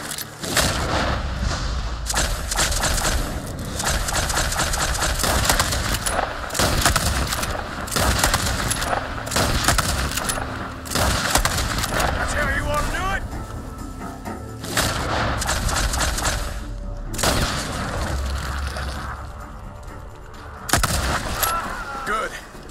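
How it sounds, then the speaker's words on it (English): Gunfire in the Red Dead Redemption 2 video game, a barn shootout in Clemens Cove, with loud repeated shots and booms running throughout amid game music and effects, while characters talk over the action. "Gunshots are coming from that barn!"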